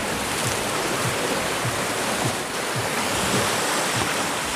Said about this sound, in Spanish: Parece como si fuera el mar, la verdad. La arena y las olas.